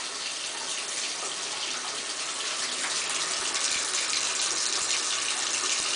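A hand rinses under a running water tap, a steady gushing stream with faint splashing shifts as the hand moves through the flow.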